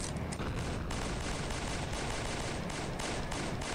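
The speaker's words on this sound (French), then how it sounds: "Oh, c'est le bordel, ça tire dans tous les sens," Rapid, chaotic gunfire erupts in the motorcycle combat video game Road Redemption, a dense continuous barrage of overlapping shots with no pauses, loud and unbroken throughout.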